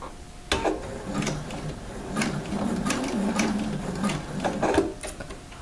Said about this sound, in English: I'm going to come here with the serger.